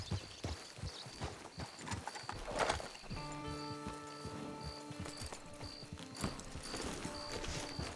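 Horse hooves clip-clop at a steady walking pace, close by, in the video game Red Dead Redemption 2 Online, with a faint tonal game chime repeating in the background.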